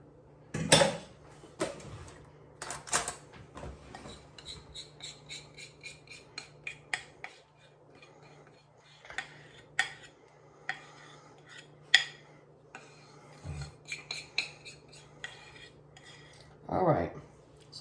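A spoon scrapes pineapple cake glaze from a container, making scattered close metallic scrapes, taps and clinks of varying strength over a low steady hum, with quiet pauses between strokes.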